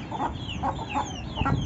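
Hens in a new colony cage on a poultry keeper's farm give repeated soft clucks in a steady rhythm, several birds close by with a constant background murmur.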